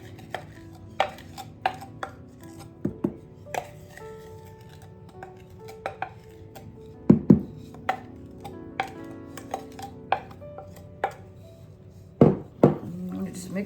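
Bread dough being mixed by hand in a bowl gives scattered knocks and scrapes of a utensil against the bowl, irregular and fairly close, with someone talking in between.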